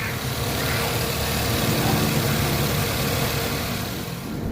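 A Toyota Vitz engine with a vibration fault idles steadily up close, a dense continuous rumble and rattle that holds level for several seconds.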